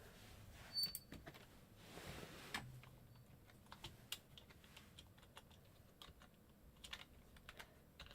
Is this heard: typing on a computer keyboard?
yes